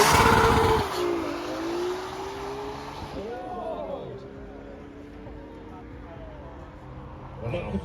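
A high-performance car accelerates up the Horsepower Hill speed run at a concours event, its engine note loud and close at first, then rising in pitch as it pulls away, with crowd chatter and talk underneath.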